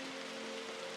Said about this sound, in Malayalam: മഴ തുടങ്ങി.